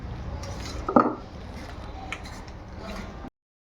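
A spoon scrapes and clinks against a metal pot while a tomato gravy dish is stirred together, with one sharp clatter near the start and then softer, steady scraping, close by and moderately loud.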